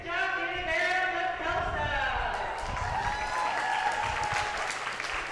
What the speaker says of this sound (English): Loudest applause of the day.